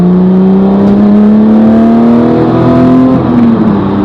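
A 2010 Porsche GT3 engine revs loud and close, its pitch climbing steadily for several seconds, then dipping as the revs drop near the end.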